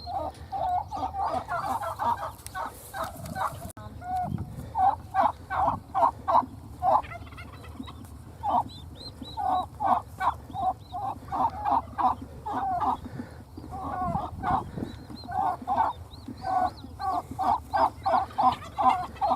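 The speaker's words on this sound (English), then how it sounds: "Turkey herding." A flock of turkeys gobbles and clucks continuously while being herded outdoors, with rapid repeated calls from several birds close by, loud and busy throughout.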